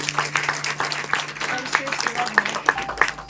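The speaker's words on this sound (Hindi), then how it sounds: "जोरदार ताली।" An audience at a New Year celebration at a spiritual centre gives scattered, moderately loud clapping with distinct individual claps and a faint steady hum underneath, with some voices mixed in.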